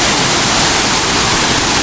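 An Armenian waterfall roars close by, a loud, unbroken broadband rush of falling water filling the whole moment.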